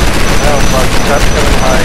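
Continuous loud gunfire in the game StarForge, a dense rattling barrage that does not let up, with a voice talking faintly underneath.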